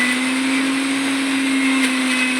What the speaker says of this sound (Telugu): ముందుగా పచ్చిమిర్చి మిక్సీ జార్లో వేసి అల్లం వేసి మిక్సీలో మెత్తగా పట్టుకోవాలి.